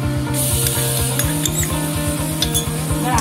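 Cumin powder and green chili paste sizzle in hot oil for palak paneer, a steady close hiss over a low rhythmic mechanical hum, with no talking.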